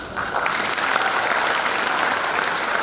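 A lecture-hall audience at a university college lecture breaks into full, dense applause that swells after a brief start and holds steady and loud throughout.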